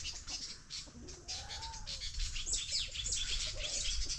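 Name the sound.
birds chirping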